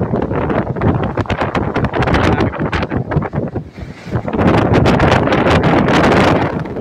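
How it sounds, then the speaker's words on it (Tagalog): Strong wind buffets the microphone in loud, roaring gusts at the seashore of Isla Verde, Tanza, Cavite, with a rush of surf and open water beneath. "Masak hangin, sobra."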